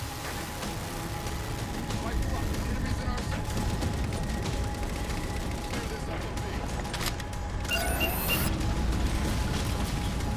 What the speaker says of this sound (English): Railgun reloaded. All right, Master Chief, I'm clear. Unimac's at your disposal. Take out that particle cannon.